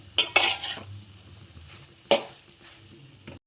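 Meal maker soya chunks frying in a pan, with a soft background sizzle and several sharp metallic scrapes and clinks of a spoon stirring against the pan, close and with no talking.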